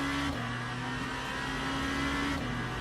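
A race car engine in the video game Le Mans Ultimate, stuck in first gear, droning at a steady high rev with a sustained buzzing tone and slight pitch shifts, loud and close, no voices.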